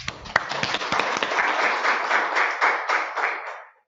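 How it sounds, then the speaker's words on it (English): A conference audience at a regional hub meeting claps: a few sharp, separate claps at first, then fuller applause that builds, holds and quickly fades out at the end. "So how about we give that a round of applause for us?"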